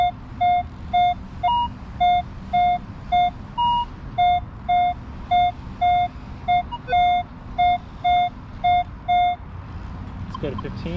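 A Minelab Equinox metal detector running at 4 kHz gives a steady train of short, evenly spaced electronic beeps, with a couple of higher tones mixed in, over outdoor background noise.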